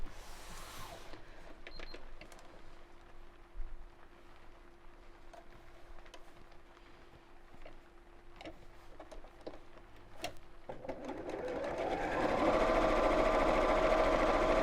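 A sewing machine joining a clutch bag's front panel and lining across the top, starting with quiet clicks and light ticks before the motor runs in a steady, louder whir near the end.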